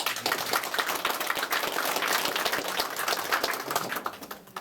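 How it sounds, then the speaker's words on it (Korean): At an office opening ceremony, an indoor crowd applauds with a dense, continuous wash of claps that holds steady and then tapers off near the end. "박수 한번 주세요."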